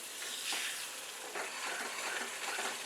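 Tomato paste frying with spices in hot oil for a garlic tomato chutney, a steady close sizzle with brief stirring scrapes, and no voices.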